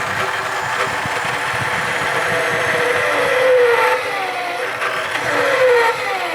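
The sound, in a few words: homemade drill press motor running at mid-range RPM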